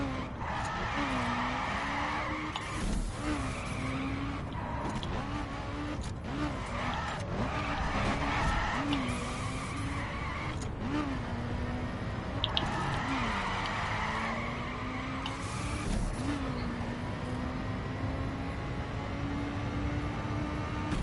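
A car drifting in The Crew video game, with a continuous engine drone and repeated long tire skids and squeals across the whole stretch, at moderate level.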